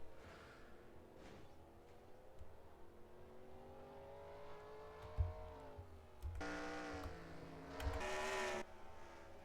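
Race cars on the Nurburgring in a racing game: one engine drones and climbs in pitch, then louder cars roar past in quick bursts near the end.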